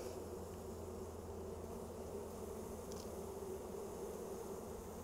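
Honey bees dusted with powdered sugar in a sugar shake for parasite checks, a dense steady buzzing hum from many insects, continuous and close, no voices.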